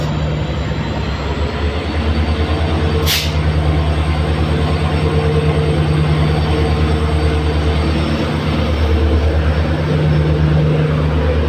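The Dibrugarh–Kanyakumari Vivek Superfast Express passenger train rolls along loudly, with a constant rumbling roar and rhythmic wheel clatter, and a brief high whoosh partway through.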